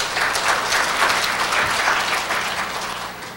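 Steady applause from a seated audience at a national dementia management workshop, dense even clapping sustained throughout at moderate loudness with no voices over it.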